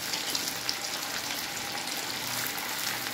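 Bread gulab jamun balls frying in hot white oil, a steady broadband sizzle with soft bubbling and occasional pops, close and continuous throughout with no talking.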